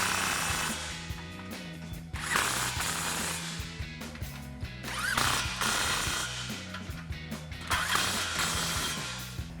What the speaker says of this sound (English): Now we can take a 15mm socket and tighten down our clamps.